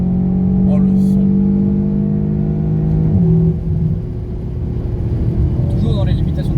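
A Seat Leon Cupra accelerates with a loud, rising engine drone, shifting gear once with a sharp pitch drop before the sound eases into a quieter rumble, heard from the cabin.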